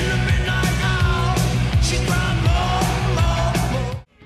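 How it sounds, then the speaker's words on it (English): A rock song plays loud and dense, with a roaring, distorted rock guitar, driving drums and a shouted yell over the top before it cuts off abruptly near the end. "That snarl, that roaring guitar, that fist-pumping chorus."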